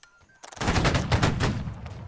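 A massed musket volley in Holdfast: Nations at War during a siege event: after a near-silent start, many overlapping shots crack out at once in a loud, dense burst that rolls on and slowly fades.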